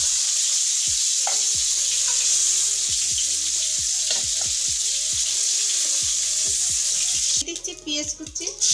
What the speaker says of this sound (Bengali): এই মাছ ভাজতে গেলে এগুলো ছুটে ছুটি করে